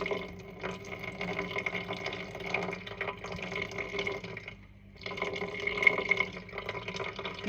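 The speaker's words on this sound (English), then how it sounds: "I'm just watching my balance as I slowly pour in my water." Water pours steadily in a thin stream into a bowl for sourdough, with a brief pause midway before the pouring resumes.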